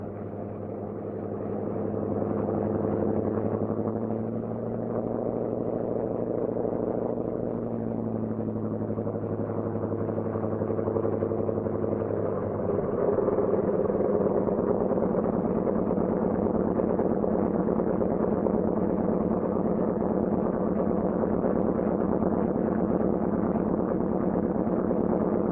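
A C-47's radial piston engines idle at about 1,000 RPM on the ground, a steady low, throbbing drone with a slight shift in pitch partway through and no voices.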